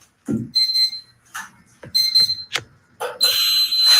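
A shrill electronic water leak sensor alarm chirps in short high-pitched bursts, then sounds continuously near the end, with light handling noises in between.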